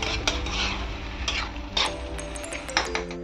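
Cinnamon frying in a pan of oil with a little water while being stirred, a continuous close sizzle broken by several scraping strokes of the spoon against the pan.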